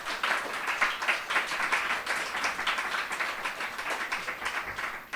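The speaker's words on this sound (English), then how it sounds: "please give a round of applause to all the readers who've come before me" An audience at a literary reading series claps steadily in sustained applause for the readers, a dense even patter of many hands in a room, with no talk over it.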